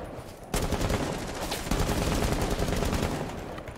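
Sustained automatic gunfire in the Rainbow Six Siege video game, a dense rapid burst of shots starting abruptly after a brief quiet lead-in, loud and continuous with a second surge partway through.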